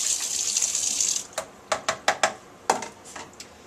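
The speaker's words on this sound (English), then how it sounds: "I'm going to go ahead and give this a quick rinse because I'll be using orange juice" Water runs steadily from a kitchen tap for about a second while a juicer part is rinsed, then stops, followed by several sharp clatters as the part is handled, close and fairly loud.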